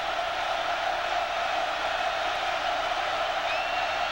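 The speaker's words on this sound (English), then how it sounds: "Crowd's making a lot of noise." Stadium crowd at Autzen for an Oregon Ducks versus Arizona college football game, a dense, continuous roar of many voices at a steady level, distant and washing together without distinct cheers.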